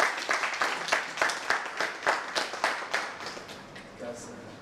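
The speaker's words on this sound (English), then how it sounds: "I want you to clap for yourself first." A reality-show audience claps for themselves, a burst of brisk, fairly rhythmic hand claps from a small group that fades toward the end while a voice speaks over it.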